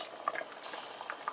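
Green plantains boiling in a pot, a soft steady bubbling hiss with a few small gurgles and light pops, close and fairly quiet.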